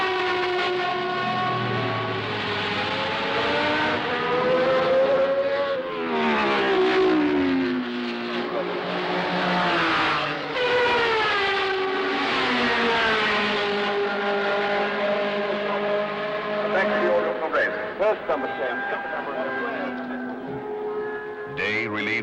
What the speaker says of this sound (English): the incessant wail of the cars knifing through the merriment